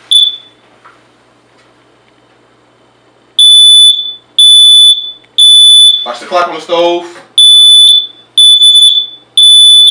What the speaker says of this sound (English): we're going to simulate smoke by activating the smoke detector